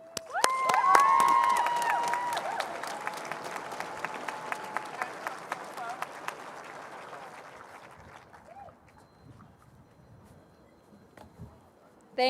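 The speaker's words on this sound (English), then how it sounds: "Let's begin with another applause for our seniors" Applause and cheering for graduating seniors fill a high school commencement, loud clapping with scattered whoops that gradually thins out and fades over several seconds.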